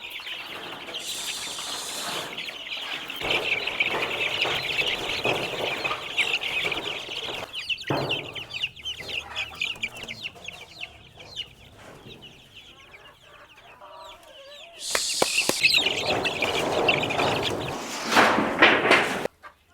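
About a hundred desi chickens cluck and squawk together nearby in a new shed, a busy continuous chorus with occasional sharp louder cackles and some rustling.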